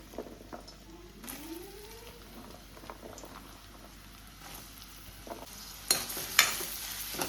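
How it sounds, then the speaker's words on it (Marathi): Four finely chopped onions sizzle as they hit hot oil in a pan for Goan-style prawn chilli, a steady low frying hiss with soft stirring scrapes and a couple of louder clatters near the end; no one speaks. "तेल म्हाजें तापलें. आतां घालता कांदो."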